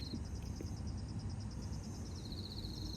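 Crickets and other insects chirp in a steady high pulsing trill at 5 a.m., faint and distant over a low background rumble, continuous with no voices.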